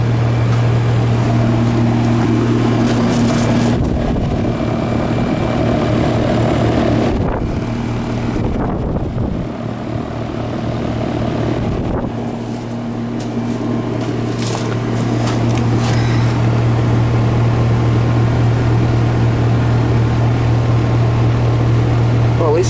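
An old air conditioning system runs with a steady low hum and droning tone, joined by brief clatters and rustling bursts partway through while the unit keeps running.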